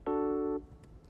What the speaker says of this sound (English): major chords that sound like this